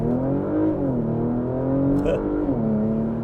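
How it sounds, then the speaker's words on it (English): A 2024 Porsche Macan sport exhaust with the flaps open sends out a brief, throaty engine note that rises, dips and settles, heard alone. "Here's what it sounds like with the exhaust flaps open."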